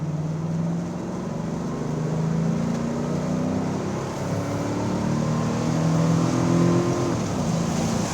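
A 1988 Mercedes-Benz 560SL accelerates on the road, its engine note rising steadily at close range for several seconds with a brief dip as it shifts, then climbing again.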